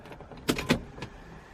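A few soft mechanical clicks come from the idle air control valve of a Toyota Supra as the ignition is switched off, quiet and close, three distinct ticks with near silence between them.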